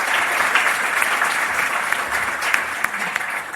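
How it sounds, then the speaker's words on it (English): Audience at a televised education policy debate gives a sustained round of applause, dense and steady throughout with a few sharper individual claps standing out. "I'd like to have a round of applause before we move to our closing statements"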